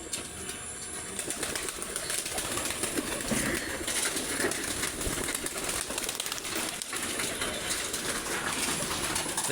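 Pigeons at a home pigeon coop coo and stir steadily throughout, with soft wing flutters mixed into a dense, continuous bird chorus close by.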